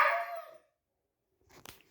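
A puppy lets out a short bark, then after a quiet pause gives a second quick, sharp yap, fairly close.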